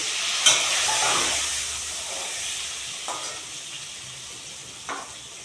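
Sliced potatoes dropped into hot ghee in a pan, a steady bright sizzle that swells at the start and then settles into a continuous hiss with a few faint stirring clicks, no voices.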